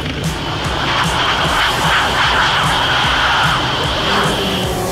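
A racing engine with a big exhaust pipe revving at trackside, a loud continuous roar that swells and holds steady, heard up close with faint crowd noise beneath.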